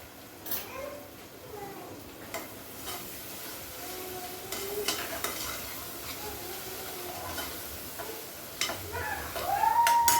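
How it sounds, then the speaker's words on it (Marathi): Spices sizzle in hot oil for a tempering, with an extra ladle of oil added, and a close crackle runs under repeated stirring scrapes and metal utensil clinks. "मला तेल थोडं कमी वाटलं फोडणीसाठी तर थोडं परत पळीभर तेल घ्यायला करून घेतलं आहे"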